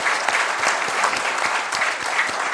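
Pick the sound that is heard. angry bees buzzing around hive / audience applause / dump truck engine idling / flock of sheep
audience applause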